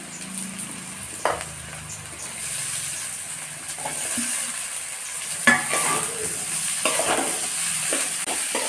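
Diced potatoes and onions sizzle steadily in a hot pan while a utensil stirs and scrapes now and then, with occasional soft clinks.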